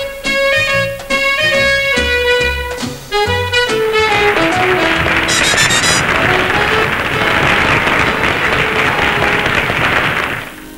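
Audience at a circus gala applauding a new horsewoman: loud, continuous clapping swells under and after a bright musical flourish, filling the whole stretch without letup.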